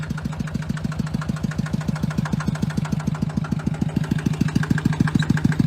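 A Fendt tractor's little single-cylinder glow plug engine runs at idle, a fast, even chugging beat close by with no voices.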